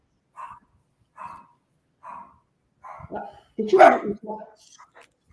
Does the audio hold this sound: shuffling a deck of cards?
no